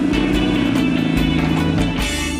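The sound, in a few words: first-generation Mazda Miata driving on back roads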